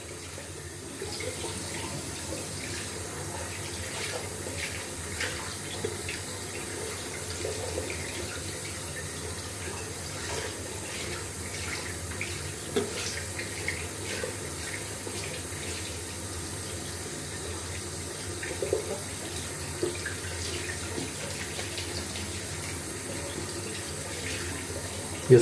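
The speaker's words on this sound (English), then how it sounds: "Just washing out the brush if you are wondering what I'm doing." Tap water runs steadily into a sink while a shaving brush is rinsed out during a cold-water wet shave, a continuous close splashing wash with small clatters and no talk.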